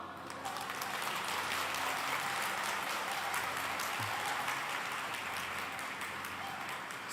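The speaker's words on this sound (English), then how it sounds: "So you're capable of clapping thunderous applause, right?" A large audience breaks into sustained applause and clapping at a speech in Pala, a dense, even roar of many hands that stays loud for the whole stretch.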